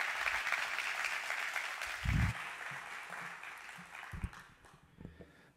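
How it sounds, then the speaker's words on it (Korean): Congregation applause welcoming a pastor at a Korean church ordination service, a broad steady wash of clapping that thins and fades toward the end, with a few low thumps. "이 시간 강승수 목사님 나오실 때 큰 박수로 환영의 박수를 전해주시면 감사하겠습니다."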